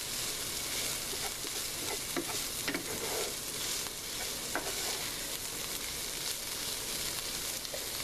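Food browning in a frying pan makes a dense, continuous sizzle right up close, with faint stirring scrapes and a few brief crackles, no voices.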